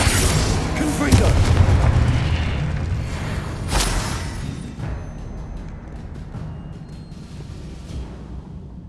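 Repeated Confringo fire-blast spell explosions in the video game Hogwarts Legacy boom loudly through the first seconds, then the blasts thin out and the rumbling game noise fades toward the end.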